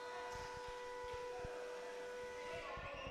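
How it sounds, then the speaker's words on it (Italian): A siren sounds at the end of a period in an Italian Serie A basketball game, a sustained tonal blare over arena noise with thumps of the crowd and court. "Arriva il suono della sirena."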